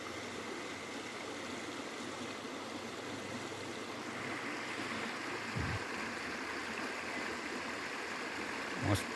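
A village river flows with a soft, steady rushing murmur that stays even throughout. A couple of faint low thumps sound near the end.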